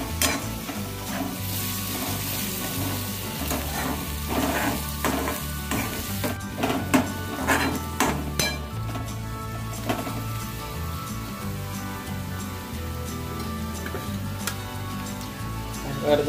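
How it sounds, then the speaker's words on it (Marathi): Onions sauté with ginger, garlic and chili paste in a pan, sizzling steadily as a spoon stirs and scrapes in repeated clicks and taps, close and continuous. "आलं लसूण मिरचीचा ठेचा यामध्ये ॲड करायचा परतून घेतलेल्या कांद्यामध्ये आणि चांगलं असं खरपूस परतून घ्यायचं."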